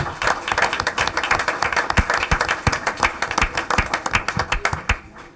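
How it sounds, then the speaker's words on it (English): Audience at a board meeting applauding parents and families, a steady burst of clapping from a moderate crowd that runs for several seconds before tapering off. "Let's give our parents and families a big round of applause."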